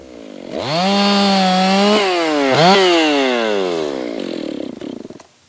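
A chainsaw revs hard and loud close by, its pitch rising and dipping as it bites into birch logs, then winding down at the end.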